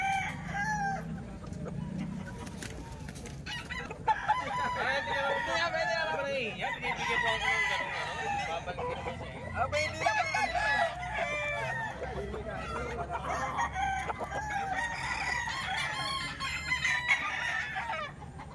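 Several roosters crow repeatedly at a busy gamefowl market, overlapping calls near and far with clucking and someone talking throughout.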